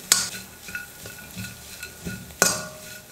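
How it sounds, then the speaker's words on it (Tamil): A garam masala-spiced mixture sautéing in a pan, with spoon strokes scraping and knocking against the metal over a low sizzle. Two sharp clanks stand out, one at the start and one later, amid softer irregular stirring. "வதக்கிக்கிறேன்"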